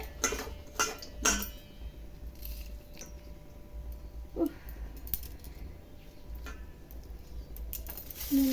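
Mustard seeds and dried red chillies pop and crackle in hot oil in a kadai, scattered sharp snaps and ticks over a steady low hiss, with a few louder bursts near the start and end.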